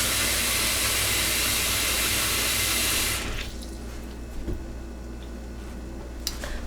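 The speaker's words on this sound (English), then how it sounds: "And then immerse just that it gives it a wash." A knitted wool piece is submerged in a basin of water for a gentle wash, a steady running-water hiss for about three seconds that cuts off into quiet, faint sloshes and small drips close by.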